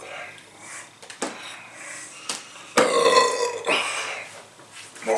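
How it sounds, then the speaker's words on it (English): Loud, drawn-out burp after chugging a 2-liter bottle of A&W root beer, close to the mic, with brief breathy sounds and short burps before it. "I had more burps, man."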